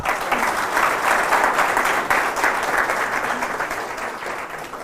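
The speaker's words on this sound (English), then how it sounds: "let's give her a round of applause" Steady, dense applause from a symposium lecture audience, a full room clapping continuously at even loudness throughout.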